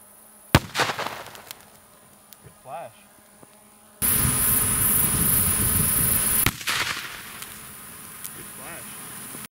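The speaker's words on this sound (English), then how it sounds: "The next charge uses a plastic container and has 500 grams of a solid fuel" An improvised thermobaric fuel-air grenade in a plastic container bursts outdoors with a sharp crack, then a loud sustained roar of several seconds that cuts off abruptly. Scattered faint ticks and distant pops surround it.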